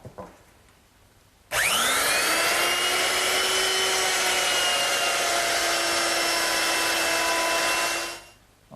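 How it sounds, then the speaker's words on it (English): Router fitted with a straight bit and a gauge fence cutting wood to clear material for a dovetail joint on a kitchen dresser; a loud, steady high whine starts abruptly, holds for about seven seconds, then winds down as the motor stops. "remove most of the material in the area of the joint while my straight bit is still in the router"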